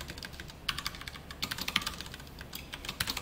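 Someone types on a computer keyboard in a quiet room. Bursts of crisp, close key clicks come in an uneven rhythm with short pauses between them.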